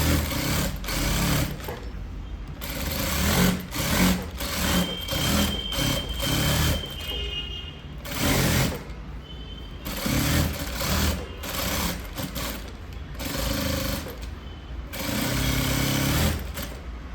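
Sewing machine stitching a cross-cut blouse with lining, a steady close mechanical chatter running nearly continuously with brief pauses, someone speaking over it.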